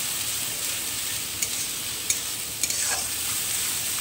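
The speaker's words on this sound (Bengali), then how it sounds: "মশলাটাকে ভালো করে ভেজে নেব" Spices, salt and turmeric sizzle steadily in hot oil while being fried for a fish curry, with a continuous close sizzle broken by a few light stirring scrapes.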